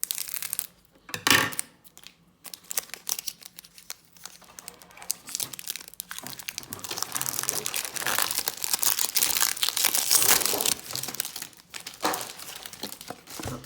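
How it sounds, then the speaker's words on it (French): Foil wrapper of a Pokémon Trading Card Game Combat Style booster pack being torn open and crinkled by hand, close and fairly loud, in irregular rustling bursts with brief pauses. "elle va ouvrir son booster style de combat"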